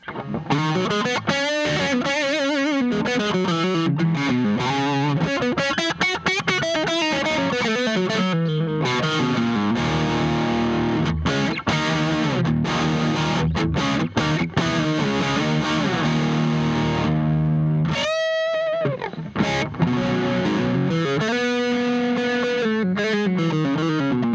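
A heavily distorted Telecaster electric guitar on the middle pickup position, both pickups on, plays continuously for the whole stretch, with sustained chords and riffs, thick and loud, with a brief break near the end.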